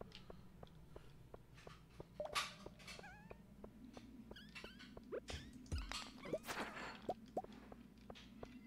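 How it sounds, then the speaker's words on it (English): Cats meow indoors, several short mewing calls rising here and there, faint and somewhat distant against a quiet room hum, with a few soft taps and rustles. "Cats are being so loud."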